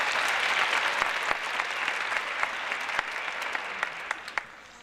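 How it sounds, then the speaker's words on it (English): Applause from a large audience at an evening dance performance and competition, dense continuous clapping with a few sharp individual claps popping out as it gradually thins toward the end. "So yes, let's give them a round of applause."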